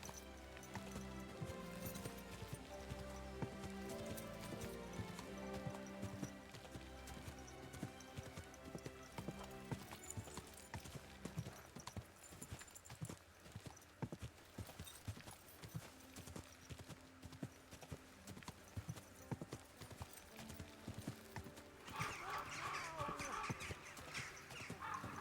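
Horse hooves clip-clopping in a medieval video game, a quiet steady run of hoofbeats over faint background music, with an occasional whinny and brief talking.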